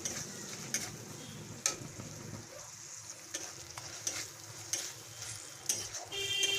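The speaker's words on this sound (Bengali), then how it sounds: "এবারে আমি এর মধ্যে এক চামচ আদা এক চামচ রসুন বাটা পেস্ট দিয়ে দিলাম" Ginger and garlic paste hisses softly among fried onions in a pan, with light spatula scrapes and clicks punctuating a fairly quiet, continuous sizzle.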